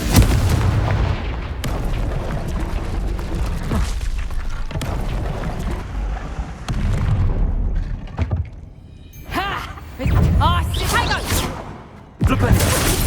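Confringo blasting spell explosions in the Hogwarts Legacy video game, loud booming blasts repeating through the clip with crackling bursts and dense rumbling effects, spells going off in quick succession.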